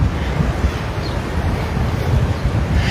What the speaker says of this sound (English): It's more like gusts than anything else.